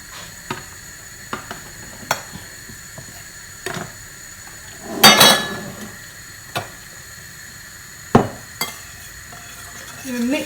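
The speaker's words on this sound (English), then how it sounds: "you mix the mushroom in." Mushrooms are stirred into a peppery cacio e pepe cheese sauce in a pan, with a soft sizzle under scattered utensil scrapes and clinks against the pan, one longer scraping burst midway, close and unaccompanied by talk.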